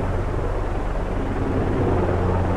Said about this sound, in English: We have a helicopter.